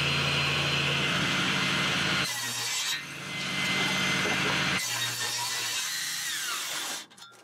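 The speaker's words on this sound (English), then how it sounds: "My table saw is 1¾ horsepower, but it's wired for 240 volts, so I'll just plug that in here," A 1¾ horsepower table saw wired for 240 volts, powered through two 120 volt inverters in series, cutting a chunk of maple with a loud, steady whine and rough grinding that dips and surges between cuts, then stops abruptly.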